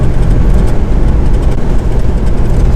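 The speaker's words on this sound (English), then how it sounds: "I wish you could hear that exhaust note. It's just so nice, that straight 6." A 1963 Ford Falcon's straight-six engine drones loudly and steadily with a deep, rumbling exhaust tone, heard close up from inside the moving car.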